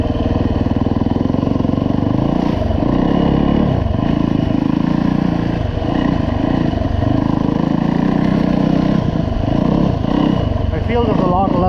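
A Yamaha dirt bike rides through snow, its engine a loud, close, continuous drone that rises and falls slightly, with a voice talking over it.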